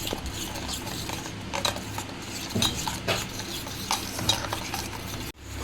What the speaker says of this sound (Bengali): এবার পেস্টটাকে সব কিছুর সাথে ভালো করে মিশিয়ে নিচ্ছি।